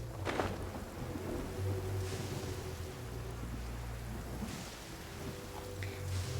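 Steady rain and rolling thunder in the video game Genshin Impact: a dense, constant hiss of rainfall over a low rumble, with a few brief brighter bursts, continuing without speech.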